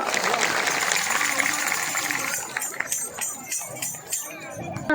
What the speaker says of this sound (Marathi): जोरदार टाळ्या वाजा